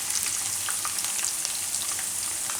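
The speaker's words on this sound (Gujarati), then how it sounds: "કિસમિસ તેલમાં એકદમ સરસ થઈ જાય આ રીતે." Raisins sizzle and crackle steadily in hot oil in a pan, a dense close frying hiss with scattered pops and no talking.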